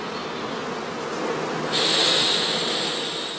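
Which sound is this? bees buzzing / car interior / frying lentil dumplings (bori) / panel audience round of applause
bees buzzing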